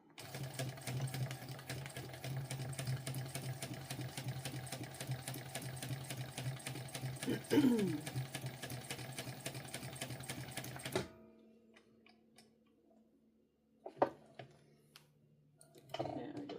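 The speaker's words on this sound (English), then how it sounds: "I'm going to decrease my stitch length from 4 to 3. Hold my threads and get sewing." A sewing machine stitches steadily through a sling bag at a shortened stitch length, a continuous close whirring hum for about eleven seconds, then it stops and only faint handling clicks remain.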